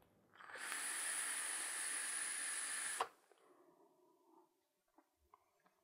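A Taifun GT II Air vape atomizer gives a loud, steady hiss of vapor for about two and a half seconds, then stops abruptly, leaving faint scattered clicks and quiet background.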